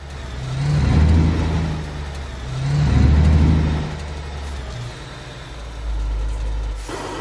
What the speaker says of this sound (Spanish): Pues nada, arrancamos y seguimos nuestro camino, amigos. Sacamos el freno de mano.